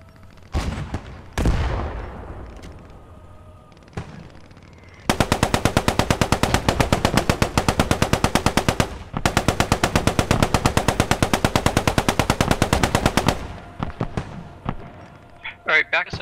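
Automatic weapons firing in the World War II shooter Post Scriptum: a few single shots, then two long, rapid machine-gun bursts, loud and close, separated by a brief pause, with scattered shots at the end.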